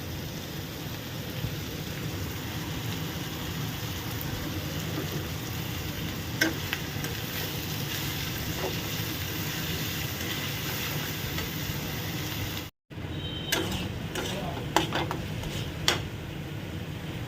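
Onion and potato frying together in oil, a steady sizzling hiss that runs throughout, with a brief dropout near the end followed by a few light clinks of stirring.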